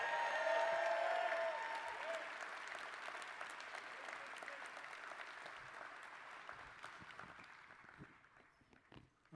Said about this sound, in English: Let's give Forrest another round of applause.